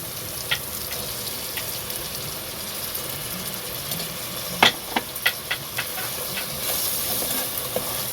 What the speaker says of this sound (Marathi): आता आपण त्यात टमाटा घालून घेऊ